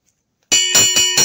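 An electric dormitory meal bell at a campus residence rings in four long repeated bursts, loud and close, with no voices.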